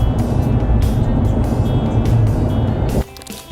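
A truck drives along a road, with a steady, loud rumble of engine and tires heard from inside the cab that cuts off abruptly near the end.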